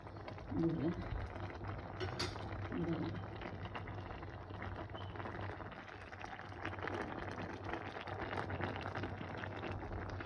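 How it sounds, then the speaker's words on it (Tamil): A pot of mixed vegetable rice bubbles on a steady boil, a continuous soft hiss and gurgle that stays even throughout, with a few faint clinks and some low background voices. "இப்போ பாருங்க, நல்லா அவிஞ்சு கொண்டு வரேன்"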